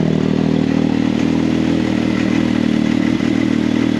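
A rebuilt Can-Am X3 Maverick turbo engine runs after startup, giving a loud, steady idle with a dense mechanical drone and light rattling throughout, with no talk.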